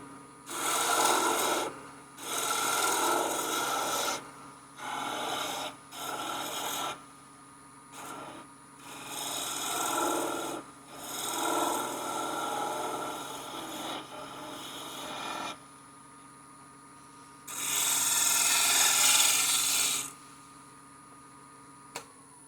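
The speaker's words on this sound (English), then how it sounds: "Now on this end down here, I'm going to round it over with this skew." A skew chisel rounds over the end of a small wooden Christmas bell turning on a lathe, making repeated bursts of loud rasping shaving sound between short pauses over a steady motor hum.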